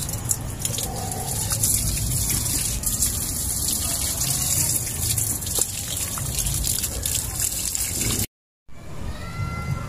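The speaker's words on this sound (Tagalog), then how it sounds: "Pagkatapos po natin maglagay ng animal manure, kailangan na po natin silang diligan." Water gushes steadily from a hose or can onto potted rose plants freshly mixed with animal manure, a broad continuous pour running the whole time with one brief dropout near the end.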